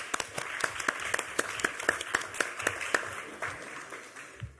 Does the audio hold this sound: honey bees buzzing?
no